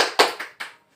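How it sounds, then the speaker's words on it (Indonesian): Brief classroom applause for a student group's presentation: three quick, close claps that stop after under a second. "Kita berikan tepuk tangan untuk kelompoknya Rini."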